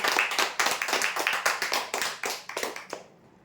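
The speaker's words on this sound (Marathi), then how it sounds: "जोरदार टाळ्या होण्यासाठी" An audience claps at a prize draw event in a quick, fairly close burst of individual claps that tapers off and stops near the end.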